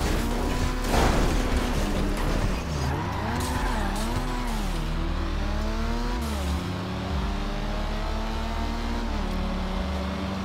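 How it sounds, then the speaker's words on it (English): A car engine revs on a freeway in GTA Online, the pitch rising and falling in repeated swells over a steady low drone, continuous and moderately loud with no talk. "The sound that engine makes on the freeway."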